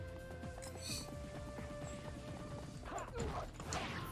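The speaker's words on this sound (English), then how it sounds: "Horse." A horse gallops in the video game Samurai Warriors 2, rapid hoofbeats clopping steadily under dense battle noise and music, with a crash near the end.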